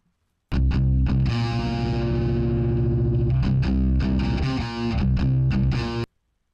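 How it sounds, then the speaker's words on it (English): A distorted bass line processed through effects, in a heavy style, playing loud and sustained with choppy accented notes, alone, beginning and ending abruptly. "And the bass sounds like this."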